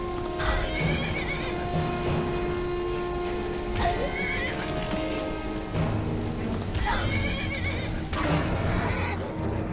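A horse whinnies several times over steady rain pattering in Skyrim, with faint hoof clops and a low hum underneath.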